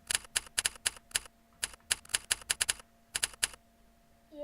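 Keys clatter on a Razer computer keyboard in quick, uneven bursts of crisp clicks, close and clear, with a short pause partway through and no talking.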